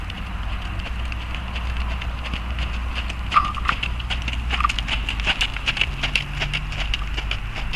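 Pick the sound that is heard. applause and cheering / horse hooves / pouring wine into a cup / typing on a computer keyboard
horse hooves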